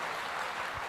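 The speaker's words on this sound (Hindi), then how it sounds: "एक बार डीजे पॉल के लिए ताली बजानी बनती है भाई लोग" Audience applause at a live entrepreneurship seminar and diploma launch event: a brief, dense burst of clapping that fills the moment at steady volume, with no voices over it.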